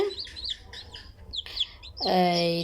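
Newly hatched Egyptian Fayoumi and local chicken chicks give repeated high, thin peeping chirps close by, and a person speaks briefly near the end.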